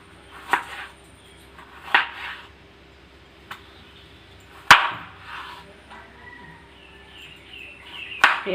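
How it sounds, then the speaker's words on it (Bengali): An onion is chopped with a knife for a spicy masala prawn curry: a handful of sharp, irregular chops, close and fairly quiet, spaced apart with a hushed background and no talking. "এবারে আমি পেঁয়াজটা কেটে নেব"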